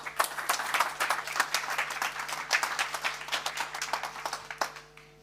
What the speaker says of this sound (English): Please give a huge round of applause for Aidan.